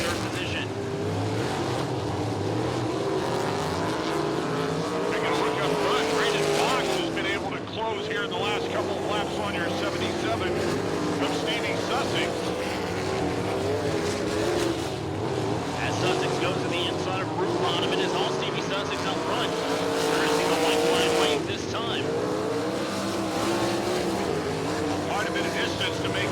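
Sprint cars race in heat races at Lincoln Park Speedway, a continuous loud roar of engines rising and falling as they pass, with an announcer calling the race over the noise.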